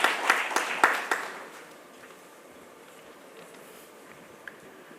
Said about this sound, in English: Let's welcome him to the podium with a big round of applause